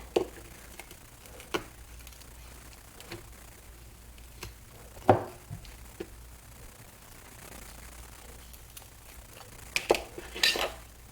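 A knife works at a mango pit, giving a few sparse metallic clicks and scrapes, with a couple of sharper taps near the middle and several more near the end, over a quiet room.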